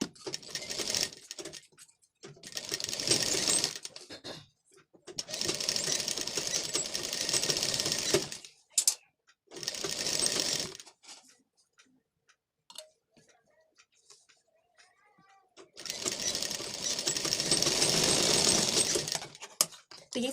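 Sewing machine stitching the lining side of a lined blouse in several separate bursts of rapid ticking runs, with short quiet pauses between them and a longer gap before the last run.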